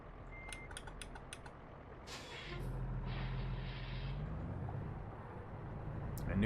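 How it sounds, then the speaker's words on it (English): A truck rumbles in American Truck Simulator, a low steady engine drone that swells midway with a brief hiss like an air brake release, over faint clicking and a rising roar at the end. "You do not see the giant truck coming out of the side road"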